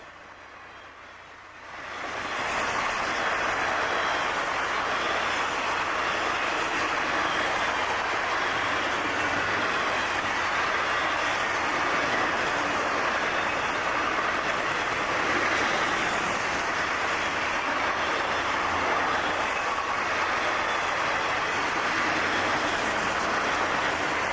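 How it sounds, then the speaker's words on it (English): Florida East Coast GP38 locomotives haul freight train S101 at nearly 60 mph along straight track at Saybrook. After quiet, a loud, sustained roar of engines and rolling wheels sweeps in and holds steady, with rail noise throughout and no talking. "500 series GP38 have S101 for Miami rolling at near 60 miles per hour on the straight track at Saybrook"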